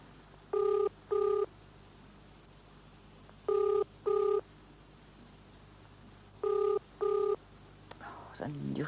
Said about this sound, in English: I'm ringing the garage.